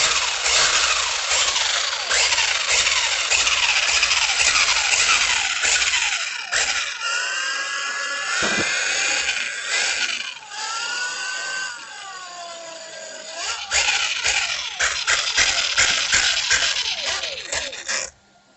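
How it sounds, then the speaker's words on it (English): A Hobao 1/8 scale RC car runs to break in a new pinion and rear crown gear. Its drivetrain whines loudly and close, with repeated rising and falling revs and short pauses between bursts. "now I gotta break in the new pinion and rear crown gear"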